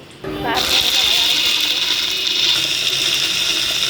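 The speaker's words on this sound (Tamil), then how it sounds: "இப்போ நான் இதெல்லாம் அரைச்சி எடுத்துக்கலாம்" A mixer grinder loudly grinds pepper, garlic, ginger, onion, tomato and cumin, starting abruptly after a brief quiet moment and then holding a steady, high-pitched whirring roar close by.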